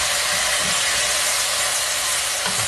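Greens steam in a pan after a splash of water is added, producing a loud, unbroken hiss with faint rattling underneath.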